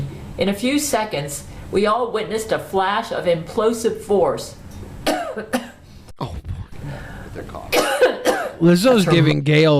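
A burst of coughing and throat clearing mixed in with continuous talking from several voices.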